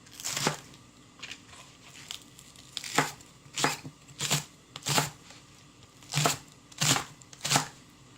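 Green onion (daepa) chopped with a knife on a cutting board, about ten crisp separate cuts in an uneven rhythm, close and fairly quiet, with no voices.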